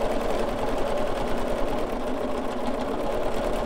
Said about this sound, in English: A meander stitch like this just takes a little bit of practice.